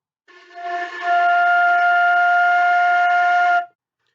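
A single sustained flute note sounds clearly for about three seconds after a soft start, steady and close, then stops cleanly.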